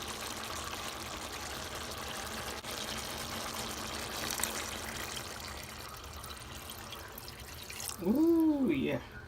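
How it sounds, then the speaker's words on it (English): Two cups of water pour from a cup into beef tips in a Dutch oven, a steady hissing splash that runs for several seconds before a person speaks near the end. "I'm going to add in 2 cups of water."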